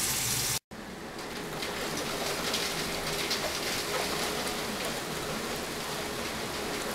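A heavy rain storm outside, steady hissing downpour on the ground, even and continuous after a brief cut near the start, with no voices.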